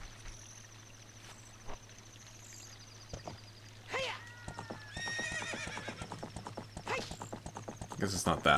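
Epona, the horse in the video game Ocarina of Time, neighs and whinnies with rhythmic clip-clop hoofbeats that grow louder and faster as she approaches, alongside chiming game effects.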